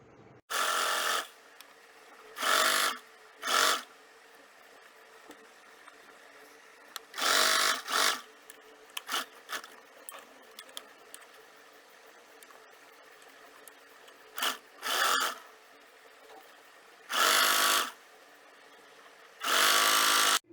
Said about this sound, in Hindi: और अब इस स्ट्रिप को प्लेस करके दोनों साइड में स्टिच करेंगे।